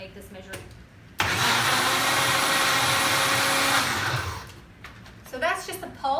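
A kitchen blender pulsing protein pancake batter made with milk, a loud whirring burst of about three seconds that cuts in abruptly and winds down, with voices talking briefly before and after it.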